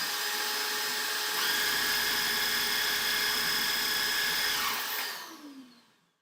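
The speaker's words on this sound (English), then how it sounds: "And then this is the vacuum on top of it." A shop vacuum runs alongside a tube cutting tool during a PC rebuild, a loud steady whine with high tonal drones that holds for about five seconds, then winds down and fades out.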